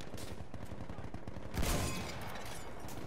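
Rapid rhythmic gunshots in Battlefield 1, a regular string of shots at moderate level with one heavier blast partway through before the firing continues.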